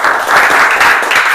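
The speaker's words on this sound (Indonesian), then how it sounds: "kasih tepuk tangan loh" Applause from a vocational high school class praising students' work, a dense burst of many hands clapping together for about a second and a half.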